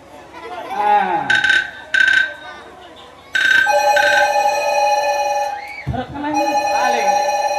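An electronic telephone ringtone sounds during a tribal Manasa folk jatra performance, with bright repeating tonal bursts, then a longer steady ring, and a sliding tone near the end.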